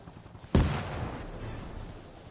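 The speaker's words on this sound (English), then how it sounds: "That's a nade." A single grenade blast in the military game Arma Reforger, a sharp nearby boom with a rumbling tail that fades slowly over the next couple of seconds.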